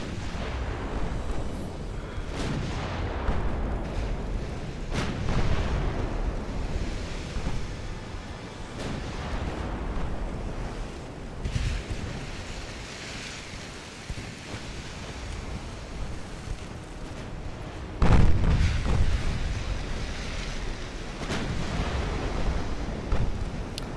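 Naval artillery booming in Ultimate Admiral Dreadnoughts, deep rumbling gun blasts and shell impacts rolling over a constant sea-like wash, with one sharper, louder hit near the end.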